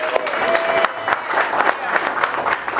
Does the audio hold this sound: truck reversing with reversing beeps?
no